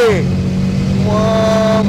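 A 2003 car with a 400-horsepower engine accelerates hard, a loud close engine roar with rising pitch sweeps, a brief dip, then another climbing rev held steady, with people talking over it.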